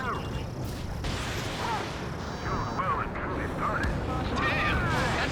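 Explosions in the video game Ace Combat 7 boom and crash in a dense, continuous barrage, with chirpy mechanical effects layered over the steady blasts.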